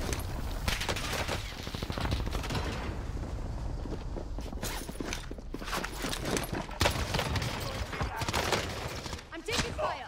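Gunfire rattles in Call of Duty Warzone on Rebirth Island, with repeated shots and bursts over a dense, continuous battle din, and voices from players and the game talking throughout.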